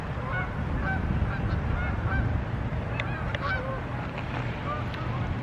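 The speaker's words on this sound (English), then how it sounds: "we have a bunch of geese flying over" A flock of geese honking repeatedly as they fly overhead, the calls overlapping at moderate distance above a steady low background rumble.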